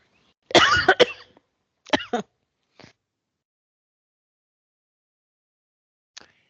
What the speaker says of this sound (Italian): Le fiamme fanno venire la tosse.